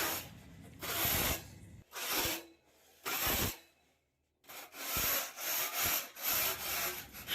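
A putty blade scrapes loose flakes off an exterior wall being prepared for damp proof paint, giving repeated rough, close scraping strokes in bursts with short pauses between them.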